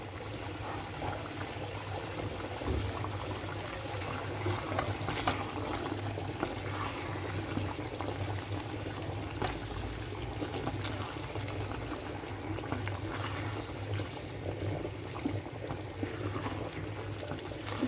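Pickle brine for oily pepper pickle with apple cider vinegar boils steadily in a pot, a continuous bubbling roil that holds an even level throughout with no talk.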